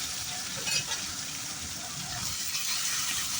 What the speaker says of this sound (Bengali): চিকেন দিয়ে অল্প রসুন ফোড়ন দিয়েছি আর কাঁচা লঙ্কা দিয়ে প্রথমে চিকেনটাকে একটু ভেজে নিচ্ছি